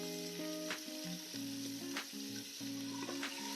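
Onions sizzling in oil in an Instant Pot for osso bucco, a continuous close sizzle under quiet background music with stepped tones, no voices.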